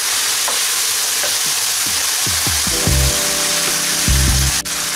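Stewed cabbage sizzles steadily in a frying pot while being stirred, with close scraping strokes and knocks against the pan over constant frying hiss.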